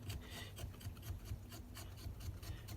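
Steady rasping of a wood rasp shaping the tenon on a carved wooden shorebird bill, rhythmic back-and-forth strokes close up, with no talking.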